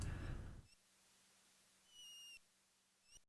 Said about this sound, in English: I think they're meant to be bird squeaks, since we're near the sea here.